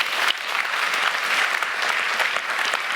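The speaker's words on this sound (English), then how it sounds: "Steve, round of applause real quick." A room full of people at a diversity and inclusion talk gives a quick round of applause, dense steady clapping that carries evenly through the whole span with no speech over it.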